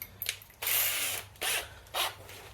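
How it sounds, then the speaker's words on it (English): Small pilot hole drilled into steel on a classic Mini Mk1 during an external-hinge conversion: several close, harsh whirring bursts of a drill, one long and two shorter, with short pauses between them and no talk. "I'm going to go with a small pilot hole again."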